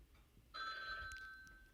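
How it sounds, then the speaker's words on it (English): A phone rings with a steady electronic tone that starts suddenly, clear and fairly close over a quiet room. "Hold on, my phone's ringing."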